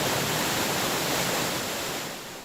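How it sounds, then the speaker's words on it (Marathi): Heavy water roars over an overflowing dam spillway near Manmad in a dense, continuous rushing wash that stays loud and even throughout, easing slightly at the end, with no voices. "धरणाच्या सांडव्यावरून मोठ्या प्रमाणात पाण्याचा विसर्ग सुरू आहे"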